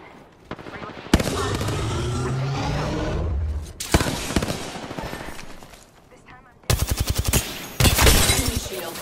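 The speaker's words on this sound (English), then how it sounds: "Charge rifle." Heavy weapon fire from an Apex Legends match, with loud bursts of shots broken by brief pauses, then rapid staccato volleys near the end, all close and dominant.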